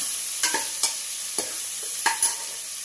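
Tempering spices for a curd curry sizzling in oil, a soft steady fry hiss broken by five or six distinct scraping stir strokes spaced irregularly, with no voices.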